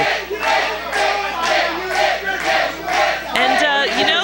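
Wrestling crowd at an elimination match cheering and chanting in loud rhythmic surges that rise and fall steadily, with a commentator's voice cutting in near the end.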